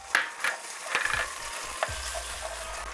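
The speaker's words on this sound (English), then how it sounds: "It is very important to fry the sauce for Jajangmyun." Jajang black bean sauce fries in hot oil and is stirred in a pan, with a steady close sizzle and a few scraping strokes of the spoon, and no voices.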